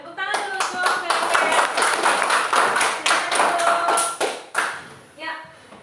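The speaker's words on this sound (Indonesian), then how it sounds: "Ya, tepuk tangan dulu untuk PBB." A classroom of students claps hands in a burst of quick, close slaps that thin out into a few scattered final claps, with voices talking underneath.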